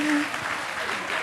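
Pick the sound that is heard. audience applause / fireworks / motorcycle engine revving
audience applause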